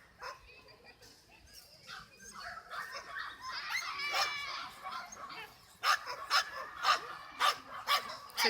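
A dog barks in a quick series of sharp yips near the end, after a stretch of people talking in the background.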